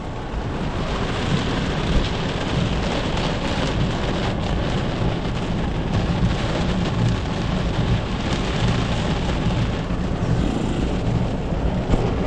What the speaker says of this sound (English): We've seen a thunderstorm coming in.